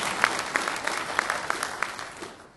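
An audience at a sheriff candidate forum claps in a short, moderate burst of scattered handclaps that thins out and fades at the end.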